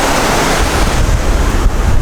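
Ocean waves at a beach, loud and close, a continuous rushing surf mixed with heavy wind buffeting the microphone. No speech is heard.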